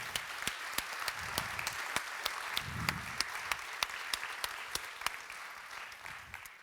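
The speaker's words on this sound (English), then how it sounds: "A big round of applause." Audience applause at a panel event on financing the green transition: sharp separate hand claps at a steady, fairly quick rhythm over a soft crowd wash, with low voices briefly murmuring underneath, fading toward the end.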